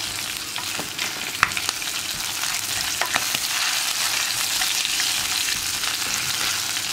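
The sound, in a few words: chili powder paste frying in oil for Kottayam fish curry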